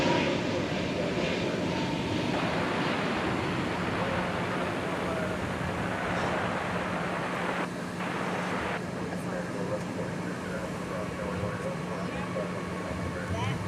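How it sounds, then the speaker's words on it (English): A Boeing 787 Dreamliner arriving at DFW Airport makes a sustained broadband jet roar with a steady low hum, continuous and fairly distant, lasting the whole stretch with slight shifts in texture. "Dreamliner arriving."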